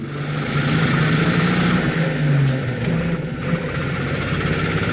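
A 1954 Chevrolet 3100 pickup's 235 inline-six, four-speed, revving up through the gears on a drive, loud steady engine drone with rising and falling pitch and continuous road noise.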